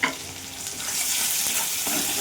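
Turmeric, salt, Kashmiri chili and cumin powders frying in oil with tomato, a dense steady sizzle that swells after a brief start, with faint stirring underneath, close and free of speech.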